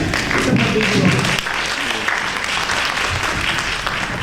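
Audience applause at an International Day against violence against women event: a sustained, dense wash of clapping throughout, with voices mixed in.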